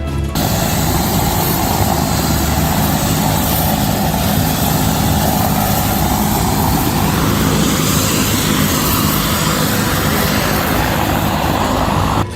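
Helicopter waiting at a police barracks to transfer a detained former president of Peru, a steady loud rotor and engine roar filling the whole stretch without pause.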